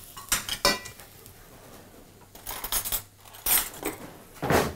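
Flour fries in a pan to make a roux for baked cauliflower, heard as a scraping and clinking utensil stirring against the pan in irregular bursts, close and fairly loud, with no talk.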